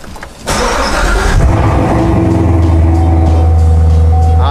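A Corvette engine cold starts: a short crank, then the engine catches with a loud roar and settles into a high, steady idle, close to the microphone.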